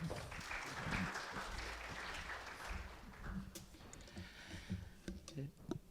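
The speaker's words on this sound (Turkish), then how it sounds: "Alkışlarla." Applause from a seminar audience greets an associate professor invited to the stage at a data-protection event, a broad rattle of clapping that fades into scattered claps as talk begins.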